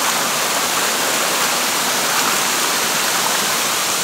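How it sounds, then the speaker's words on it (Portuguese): The Cachoeira da Árvore Caída waterfall in Ribeirão Bonito, Brazil, roars steadily and loudly close by, a dense continuous rush of falling water with no pauses. "Cachoeira da Árvore Caída aqui em Ribeirão Bonito"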